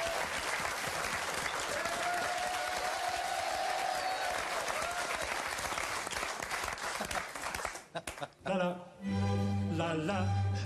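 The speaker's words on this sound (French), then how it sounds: "Je vous demande d'accueillir et d'applaudir comme il se doit Jean-Michel Lala, s'il vous plaît." Applause from a TV game show studio audience, steady and dense for about eight seconds, then breaking off abruptly as music with singing takes over.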